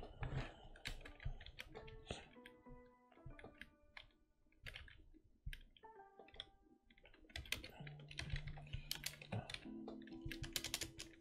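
Quiet, close typing on a computer keyboard in a dark room: irregular bursts of key clicks and taps with short pauses, with faint tonal sounds in the background and no talking.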